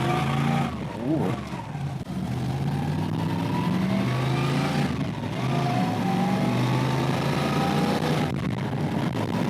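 A 1987 Pontiac Firebird with a cammed Chevy 350 V8 swap revs loudly nearby, its engine note rising and falling through several throttle blips over a steady rumbling idle.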